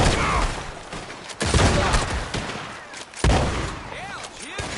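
Gunfire in the Western video game Red Dead Redemption 2: two sharp, loud shot bursts ring out over a busy background of game ambience and indistinct voices, with rumbling echoes trailing each blast.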